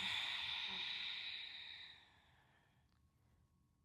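A slow, steady exhalation during a fascia posture exercise, a soft breathy rush that fades over about two seconds into near silence, with no talk.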